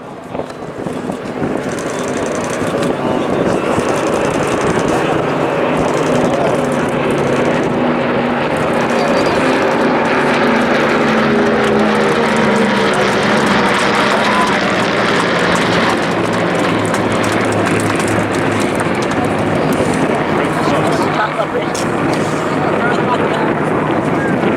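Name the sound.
Merlin-engined aircraft of the Battle of Britain Memorial Flight passing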